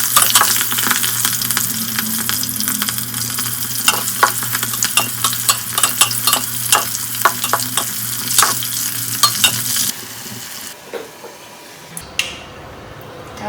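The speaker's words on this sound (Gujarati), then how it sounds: "ભાજી વઘારવાનું હાલ" Spinach greens tempered and stir-fried in a pan in a Gujarati village kitchen give a loud, close sizzle with repeated scraping stirs, the frying fading near the end.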